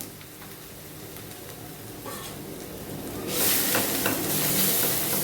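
Two spoons of ground coriander and spices fry in hot oil for a fish curry, a steady sizzle that swells sharply louder partway through as stirring churns the pan, with scraping ticks and no voices.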